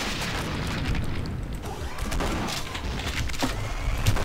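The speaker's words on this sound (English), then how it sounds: "Grenades!" Grenade explosions in the Doom video game, a dense, continuous roar of booms and bursts with no clear break, loud and close.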